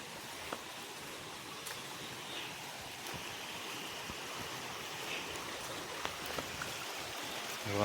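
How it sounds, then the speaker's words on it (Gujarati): Water in a forest stream near Bhavnath at Girnar flows with a faint, even rushing murmur, a few soft splashes and drips standing out now and then. "પાણી આવેલું જાય છે"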